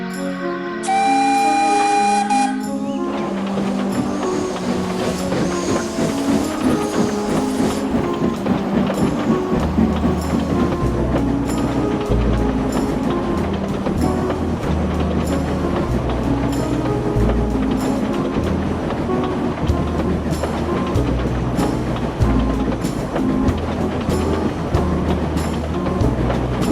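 A steam locomotive puffs along the rails in a model railway scene, with a rhythmic chuff and clatter under a running musical score, opening with a bright whistle-like tone.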